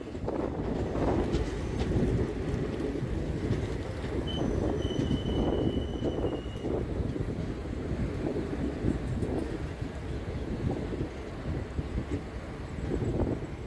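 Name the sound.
Mayurakshi Express train curving into Rampurhat junction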